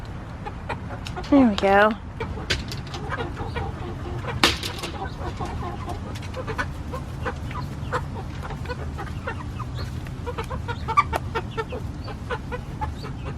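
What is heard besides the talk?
chickens and roosters clucking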